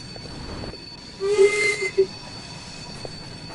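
Train rumbling along in Train Sim World 6 on the Fife route, a steady mechanical roar with a brief tonal squeal or horn-like note rising through the middle, close and fairly loud, no talk.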